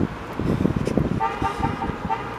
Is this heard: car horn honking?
yes